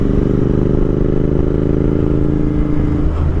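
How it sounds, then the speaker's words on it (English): A Royal Enfield Interceptor motorcycle runs loud and close, its engine giving a steady throbbing drone that holds throughout with a slight rise near the end. "Royal Enfield, I just love it. It's such an awesome bike."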